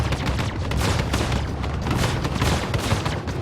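Ship cannons firing in the space game Star Citizen, a dense continuous barrage of rapid booming shots, loud and close, with no talk.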